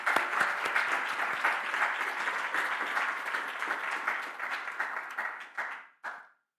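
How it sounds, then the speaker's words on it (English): Audience applause at a Georgia State University student government inauguration, sustained dense clapping that thins and fades out, ending with a short final burst. "Just one more round of applause, please."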